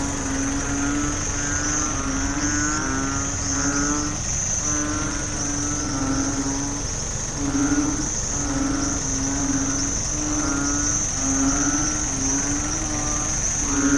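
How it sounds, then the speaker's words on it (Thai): Pulsing chorus of frogs calling in repeated bursts over a steady high insect-like drone and rain hiss, continuous and fairly close, in Samut Sakhon, Thailand. "ฝนตกครับพี่น้อง ฟังเสียงอึงครับได้บรรยากาศก็อย่างนี้"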